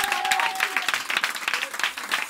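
A church congregation bursting into applause during a French-language service, a short run of dense, steady clapping from a crowd in a room, loud and close.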